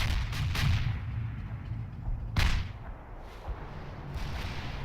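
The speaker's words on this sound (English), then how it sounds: "there's some nice heavy artillery" Heavy artillery in the real-time strategy game World in Conflict, with several booming blasts and cracks in quick succession, the loudest bursts coming early and at two and a half seconds, over a low battlefield rumble.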